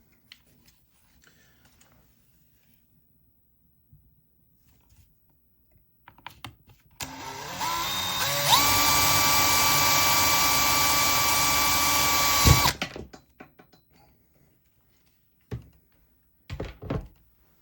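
A steady high-pitched power drill whines for about four seconds, drilling into the case of a Noco NLP lithium battery, close and loud, set between quiet stretches with a few clicks and thumps.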